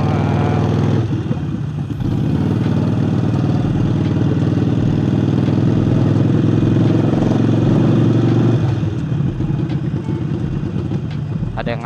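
A Harley-Davidson Forty-Eight fitted with a new air intake idles with a loud, lumpy low rumble, rises into a fuller throttle blip for several seconds, then drops back to the uneven potato-like idle, up close.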